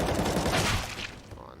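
Gunfire in Counter-Strike on the Mirage map during a professional StarSeries i-League match, a dense close burst of shots that fades out over about a second.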